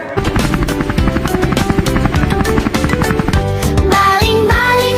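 A toy helicopter sound effect whirs loudly with rhythmic rotor chopping and bright buzzing tones, continuous and close throughout.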